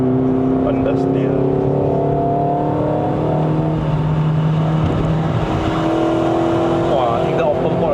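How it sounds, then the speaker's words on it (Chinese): A Toyota Vios 1.5J (NCP150) with a four-speed automatic, driven at wide-open throttle up a mountain road in Malaysia, gives a loud, steady engine drone from inside the cabin, strained and continuous throughout. "听到 open board 的声音"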